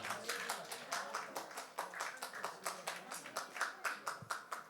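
Audience clapping for someone coming up at a church conference fills the clip: a steady run of rhythmic handclaps, soft and somewhat distant, with no one speaking.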